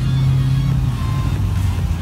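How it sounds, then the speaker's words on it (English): A B-Wagon on a dyno at a car show event, its engine holding a loud, steady low drone close by for about two seconds. "we got a B-Wagon that's about to Dyno"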